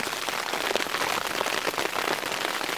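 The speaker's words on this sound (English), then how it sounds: "sitting in a tent all afternoon when it's raining" Steady rain patters on a taut tent overhead, a dense continuous hiss with soft drumming drops, close and fairly loud, no voices.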